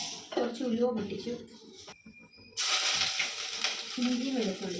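Fenugreek seeds sputter and crackle in smoking-hot oil in a clay pot, a steady sizzling hiss that swells midway, with a person talking over it while cooking.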